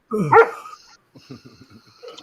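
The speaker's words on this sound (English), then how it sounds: "she just went barking out of here" A dog gives one loud sharp bark up close, then a string of softer, rapid yips and whimpering yelps trailing off, with no talk.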